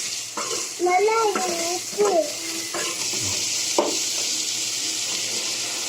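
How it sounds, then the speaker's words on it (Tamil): Mango pieces being stirred and sautéed in a pan for pickle, with a soft steady sizzle and scraping spoon strokes, a few louder clatters of utensil against metal, close and without talk. "நல்லா கிண்டிக்கலாம், நல்லா வதங்கிக்கலாம்."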